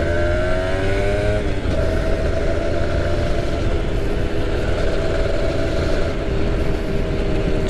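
A 30-year-old Honda NSR250 two-stroke motorcycle engine with a freshly adjusted carburetor runs steadily and loudly close by, its pitch shifting slightly early on and then holding a continuous buzzing drone throughout.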